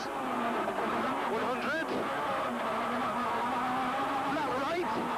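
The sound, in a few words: rally car driving on a gravel stage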